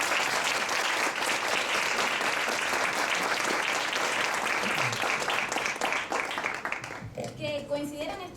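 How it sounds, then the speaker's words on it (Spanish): A crowd welcomes Cuban hip-hop artists at a Miami event with a loud, sustained round of applause that tapers off near the end, where a voice begins speaking. "Démosle primero la bienvenida con un fuerte aplauso."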